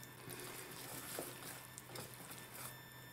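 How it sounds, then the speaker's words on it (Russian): Milk pours steadily into pancake batter of flour, a continuous close liquid splash and trickle with no talking over it. "Выливаем остальное молоко и опять перемешиваем."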